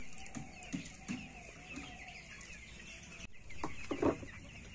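Broiler chickens with a kidney-failure problem cluck in short, fairly close, repeated bursts in an irregular rhythm, with some overlapping calls and low farm background.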